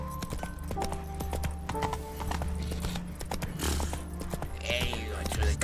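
Hoofbeats of Roach, a horse in a video game, clop steadily at a gallop over a constant low rumble, with a brief neigh and game sounds layered in.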